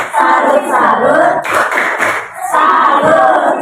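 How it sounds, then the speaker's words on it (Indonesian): A classroom of children performs a rhythmic salute clap together, chanting in unison with their hands in three loud, close bursts of patterned clapping. "Kita kasih tepuk salut."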